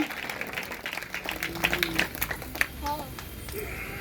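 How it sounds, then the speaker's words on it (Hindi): A congregation at a New Year revival meeting claps for Jesus Christ, a scattered, moderately loud round of hands with children's voices and other talk mixed in. "जोरदार प्रभु यीशु मसीह के लिए ताली बजाओ।"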